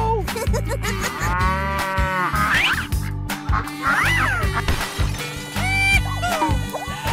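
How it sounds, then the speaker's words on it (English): A cow's mooing amid a busy toy-style mix, with long tonal calls rising and falling several times over a loud, continuous backdrop of other sounds and clatter. "Cow."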